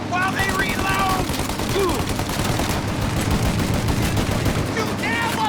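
Dense enemy gunfire from a machine-gun battle in Mafia: Definitive Edition, a steady loud rattle of shots with booming impacts running throughout, while voices shout over it.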